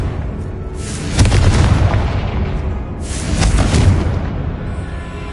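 A loud, booming blast from the Confringo spell in the Hogwarts Legacy video game, two heavy explosive bursts with rumbling tails following each other closely, with no talking.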